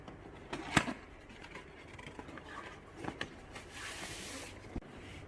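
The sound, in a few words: opening the box of a Fluke 376FC clamp meter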